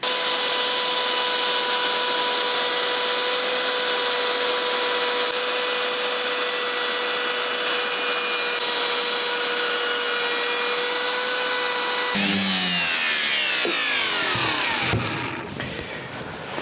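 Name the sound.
router routing corners of wooden coat hook backboards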